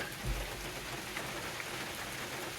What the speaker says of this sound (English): It's just a gentle rain coming down through the trees.